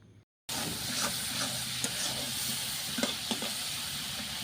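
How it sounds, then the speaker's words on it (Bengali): Spice masala sizzles and fries in a pan for a Bengali curry, a steady close hiss with occasional sharp stirring scrapes and clicks after a brief silent start. "মশলা ভালোভাবে কষিয়ে নিয়েছি,"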